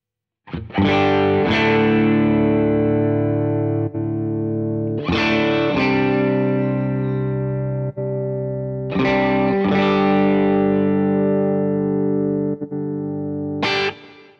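Distorted electric guitar chords through a Walrus Audio ACS1 V2 amp simulator pedal ring out loud and sustained, struck about four times with long decays between, thick and saturated with harmonics.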